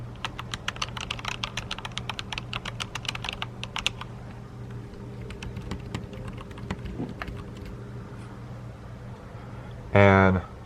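Clicky mechanical switches clatter on a Corsair keyboard in quick bursts of keystrokes. The typing pauses and thins midway, then a short loud rattle closes it.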